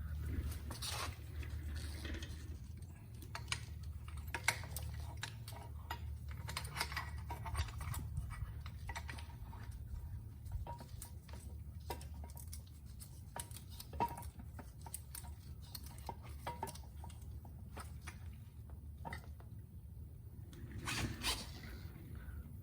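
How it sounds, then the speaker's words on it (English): A brake caliper clamp is screwed down to push back the front brake pistons on a Mercedes GLK, a faint, steady stream of small creaks and ticks over a low background hum, with no voices. "I'm gonna go ahead and compress the pistons now with one of these brake clamps."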